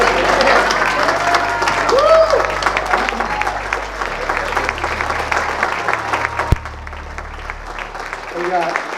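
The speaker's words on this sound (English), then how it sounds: "All right, let's give him a little applause" Audience applause for a 2020 PPA National Award recipient, Stephen Sedman, a steady crowd clapping sustained for several seconds, with a voice speaking over it and a few tonal sounds near the end.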